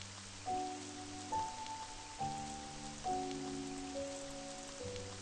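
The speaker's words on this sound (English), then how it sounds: "Yep, it's raining." Rain falling in Seven Mysteries: The Last Page, a steady hiss of rain beneath soft piano-like game music notes, with no speech.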